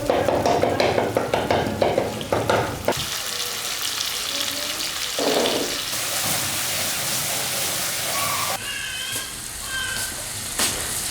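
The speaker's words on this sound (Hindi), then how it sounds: "इसको हम अच्छे से भून लेंगे। इसको आप इतना भूनेंगे कि ग्रेवी से ऑयल सेपरेट हो जाए।" Beef karahi masala sizzles and fries in a pan while being stirred, with loud crackling oil, scraping of a spoon against metal, and intermittent clinks, a voice talking briefly early on.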